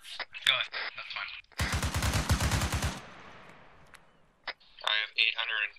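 A rapid automatic burst of about a dozen rounds rattles out in Arma 3 military-sim gameplay, and its echo tails off. Players talk over headsets just before and after.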